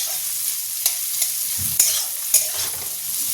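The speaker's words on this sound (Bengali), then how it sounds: "কড়াইশুটি গাজর বিনস আর ফুলকপি এগুলোকে আমি ভালো করে ভেজে তুলে রাখবো" Peas, carrots, beans and cauliflower fry in a kadai with a loud, steady sizzle, broken by sharp scraping strokes as a spatula stirs them.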